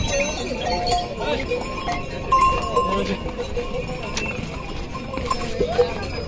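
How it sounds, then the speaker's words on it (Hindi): Horses on the crowded Kedarnath trek path in the Himalayas clop their hooves in a steady, irregular patter amid a noisy crowd of pilgrims and chatter, with bells and other livestock sounds mixed in. "अब इधर अगर आदमी जाएगा तो घोड़ों के बीच में, इधर साइड में होगा तो भी घोड़े"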